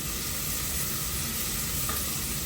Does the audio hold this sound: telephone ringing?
no